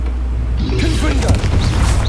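A Confringo blasting spell explodes in the video game Hogwarts Legacy, a low booming burst under a dense game mix, with a voice calling out over it.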